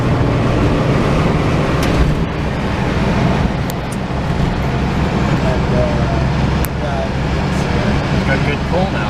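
A 1963 Chevrolet Corvair Monza cruises on a road in Montreal, its engine humming steadily with road and wind noise from inside the car while people talk over it.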